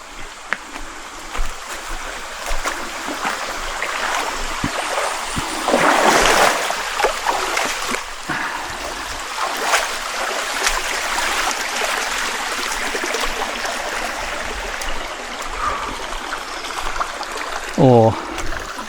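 Steady rushing of flowing stream water in southern Bohol, Philippines, fairly close, with occasional splashes and faint voices under the continuous flow.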